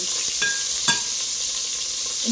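Carne guisada fries in an oily pan with a steady, fairly loud sizzle and broadband crackle, a few sharper pops of splatter spiking through the hiss.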